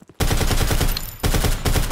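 Heavy automatic gunfire in the video game Zero Sievert, rapid sustained bursts of shots with a brief lull in the middle, loud and close.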